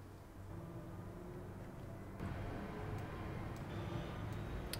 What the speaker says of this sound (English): We can hear the train a bit more.